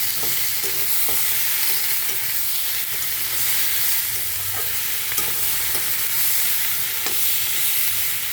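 Green chillies fry in hot oil in a pan, giving a dense, even sizzle that fills the whole stretch, with faint scattered pops and clicks.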